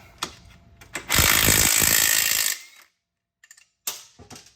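A ratchet turns a 6-point socket on a bolt of a 1987 Honda TRX250R ATV during teardown: a few scattered clicks, then a loud, dense burst of fast ratcheting for over a second, with sparse metallic clicks after.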